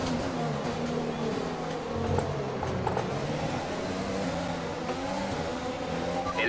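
F1 race cars from the F1 2020 game on the Russian circuit roar past in a continuous pack, engines whining and revving loudly and steadily throughout, with no gaps between passes.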